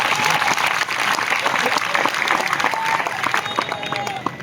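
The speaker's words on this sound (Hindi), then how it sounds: "जरा ऐसे ताली बजना चाहिए जितना बड़ा आंकड़ा है।" A large outdoor crowd at a Narmada Jayanti festival on Sethani Ghat in Narmadapuram applauds loudly, dense clapping sustained throughout with voices and crowd noise mixed in, tapering slightly near the end.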